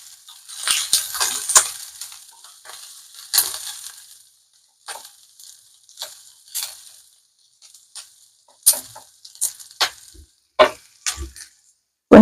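Chopped onion tempering (talimpu) for a Telugu sorakaya pappu (bottle gourd dal) frying in a little oil over a low flame, with soft crackling and sputtering bursts that come and go, brief sharper pops, and quiet gaps between them.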